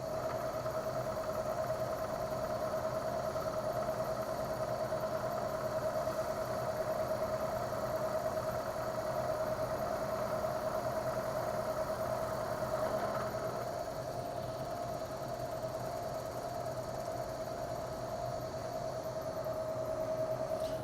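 A milling machine runs a light five-thousandths finishing cut across a part, a steady, even mechanical hum with a constant tonal whine and broadband noise, unchanging and alone for the whole stretch.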